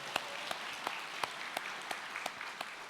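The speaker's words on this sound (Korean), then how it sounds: "다시 한 번 더 격려 박수 해주시기 바랍니다." A church congregation at a Sunday worship service gives a short round of encouraging applause, a steady rhythmic clap roughly every third of a second, fairly soft and somewhat distant.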